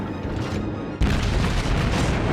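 Naval gunfire in the World of Warships game aboard the cruiser New Orleans: a hollow background rumble breaks into one loud, sharp cannon boom midway, followed by a sustained heavy roar and rumble.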